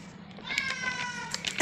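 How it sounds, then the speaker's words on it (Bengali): A cat meows in a home kitchen, a few drawn-out, fairly faint cries over quiet background noise, with a brief louder clatter at the end. "ম্যাও করছে"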